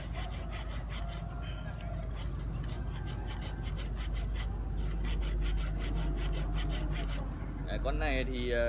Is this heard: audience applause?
no